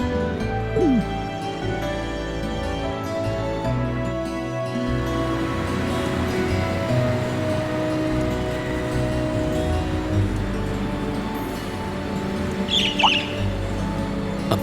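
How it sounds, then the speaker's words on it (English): A bird squawks in the video game Trails of Cold Steel, a brief cry over a steady bed of game ambience and music, fairly distant and not very prominent. "A bird?"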